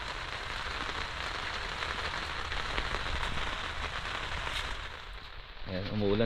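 Steady rain patters over a campsite in Gabaldon, Nueva Ecija, a dense, even hiss close around the listener throughout, with a voice starting to speak near the end.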